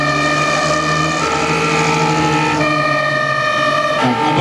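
A fire engine's siren sounds loud and close with a continuous tone that shifts pitch twice.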